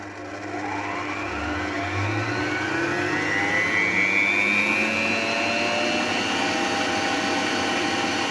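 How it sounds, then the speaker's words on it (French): An electric mixer runs at full speed whipping egg whites for coconut rocher, giving a steady, loud motor whine that rises slightly in pitch at the start and then holds constant, with no talking. "vous avez donc vos blancs en neige qui vont pouvoir être fouettés"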